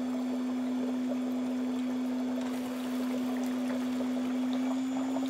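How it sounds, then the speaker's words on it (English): A Conair waterfall foot pedicure spa runs with a steady water flow and a constant motor hum, trickling and splashing close by at an even level throughout with no talk. "Turn on that waterfall."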